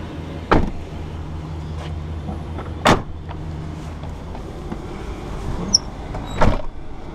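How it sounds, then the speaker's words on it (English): Doors of a 2013 Ford Explorer Limited SE conversion van shutting: three solid thuds spaced a few seconds apart over a low idling engine hum, close and without speech. "Go ahead and shut these doors real quick."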